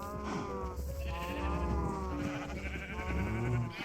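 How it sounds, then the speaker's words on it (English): Minecraft sheep bleat repeatedly in overlapping, wavering calls from a crowded flock, steady and moderately loud, with no talk. "because these sheep over here, I want to move them because it is getting a little bit crowded"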